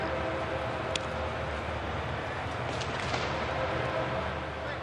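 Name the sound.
trains passing outside the ballpark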